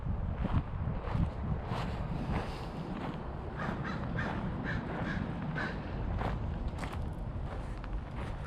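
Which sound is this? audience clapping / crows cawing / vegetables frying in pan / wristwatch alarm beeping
crows cawing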